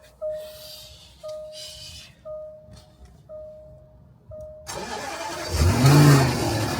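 A Land Rover engine starting: several short rhythmic warning beeps over quiet cranking, then the engine fires and settles into a loud, rough, rumbling idle up close.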